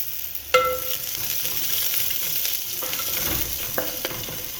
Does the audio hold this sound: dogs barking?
no